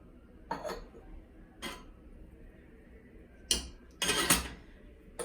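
A metal lid clatters onto a pot of yellow rice flavoured with cardamom, several sharp clinks and rattles spaced apart, the loudest cluster near the end as the lid settles, with no talk.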